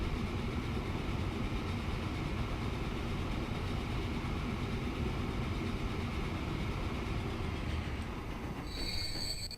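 Trains rolling through a Transport Fever game world, a steady dense rumble of wheels and railcars with faint squealing, continuous and fairly loud throughout, no voices over it.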